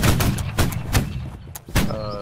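Artillery cannons in the Napoleonic-era battle game Holdfast: Nations at War boom several times in quick succession, each shot a sharp, loud thud, with a brief voice heard at the end.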